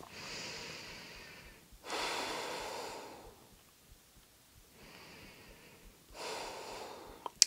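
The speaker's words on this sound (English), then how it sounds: "take a few deep breaths" Two slow, deep breaths, each a soft inhale followed by a longer, breathy exhale, heard close and quiet in a calm setting after a yoga session.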